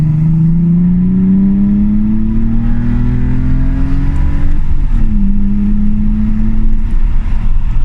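BMW E46 with a backbox delete and stainless steel exhaust revs loudly close up, its deep drone rising steadily in pitch, dipping briefly, then climbing again.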